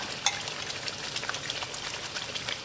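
Close, continuous sizzling of ground chili paste frying in hot oil, with soft scraping and stirring sounds mixed in.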